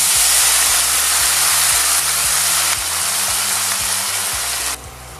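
Onions with fresh thyme sizzling loudly in a hot pan as they are deglazed with red wine, a dense steady hiss near the listener with a low rhythmic hum underneath, easing off at the end.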